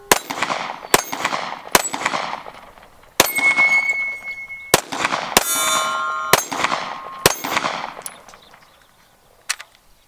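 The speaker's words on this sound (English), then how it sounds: "This little gun is a blast to shoot" Sig Sauer P320 X Compact pistol shots ringing off steel targets: a series of sharp, loud cracks, most followed by bright metallic clangs and pings that ring out between shots, with the pace slowing toward the end.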